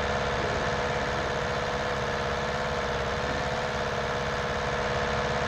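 Tractor engine in Farming Simulator 19, a DJ6M series machine, running steadily with a droning mid-low rumble and rough vibration throughout, loud and unbroken with no voices.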